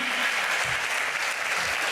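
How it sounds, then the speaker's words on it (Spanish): A church congregation breaks into brisk, full applause, a dense wash of clapping that holds steady and close throughout. "Denle un aplauso al Rey"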